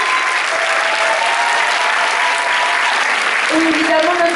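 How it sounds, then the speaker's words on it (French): Audience applause at a film premiere screening for parents, honoring the producer and co-writer; loud, continuous clapping from a packed room, with a voice briefly rising over it near the end. "je vous demande d'applaudir aussi très très fort Ali Girard"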